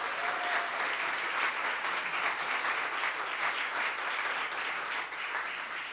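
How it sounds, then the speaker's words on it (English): Sustained audience applause at a fintech panel event, dense steady clapping from a crowd throughout, moderately loud with no talk over it. "Blake and Vinesh, let's give them a round of applause."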